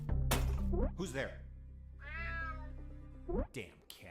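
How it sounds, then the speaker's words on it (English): Cat meowing in the video game Resident Evil 9 Requiem, a single drawn-out meow rising and falling, close and clear between other game sounds and thuds, with a voice speaking around it. "Damn cat."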